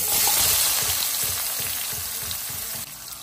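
Onion pieces and tempering spices with curry leaves sizzle in hot oil for a broad bean and coconut curry, a loud, steady, close frying hiss that eases slightly toward the end, with no talking.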